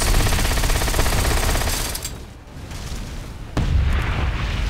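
Rapid gunfire from bullets in World of Warcraft battle, a dense loud barrage of booming shots that drops briefly midway, then resumes just as heavy and close.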